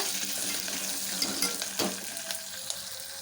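Cumin seeds and curry leaves sizzle in hot sesame oil as a Tamil tempering for a lunch dish, a steady broadband hiss with scattered sharp crackles and pops, close and uninterrupted by speech.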